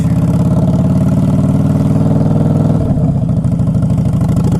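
A motorcycle fitted with ape hanger handlebars and a jockey shift runs loud and close, its engine thrumming steadily before the pulse changes partway through as it shifts, with no talking.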